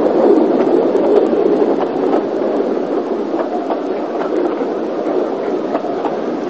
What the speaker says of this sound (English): Pulling away from Dolgok, this low-level shot is what Ivo would refer to as a worm's eye view.